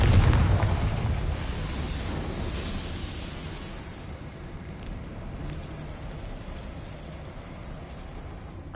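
A Confringo fire spell bursts in the Hogwarts Legacy video game, opening with a loud roaring blast that fades into a long crackling, rumbling fiery wash.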